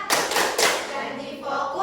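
Classroom of pupils clapping a rhythmic chant pattern in an Indonesian school ice-breaking activity, several quick bursts of hand claps close by, blended with children's voices.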